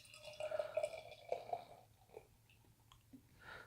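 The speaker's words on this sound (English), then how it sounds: "pouring out like your typical New England style double IPA" Burlington Beer Company's Orbital Elevator, a New England style double IPA, pours into a glass with soft, close splashing and dripping liquid. No voices are heard.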